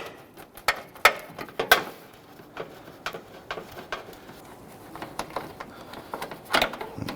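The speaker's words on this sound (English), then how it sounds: "stubby ratchet is pretty much the only thing you're gonna fit in there" A stubby 1/4 inch ratchet turns a bolt on a 2011-2023 Dodge Charger front bumper cover, making quiet, irregular clicking bursts with brief pauses between strokes and no talk.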